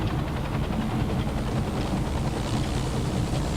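A rescue helicopter in the video game Dustoff Heli Rescue flies in to land, its steady rotor throb and engine hum droning continuously at moderate level with no voices.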